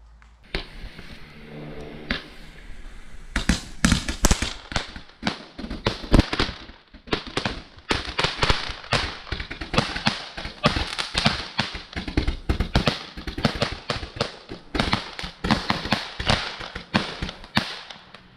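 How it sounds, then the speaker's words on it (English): A Skycrafter Snappy Days 100-shot firework barrage on Bonfire Night fires off as a dense, rapid string of sharp cracks and bangs. The shots are loud and nearby and run nearly continuously for about fifteen seconds after a short quieter lead-in. "we have got this 100 shot barrage by Skycrafter called Snappy Days"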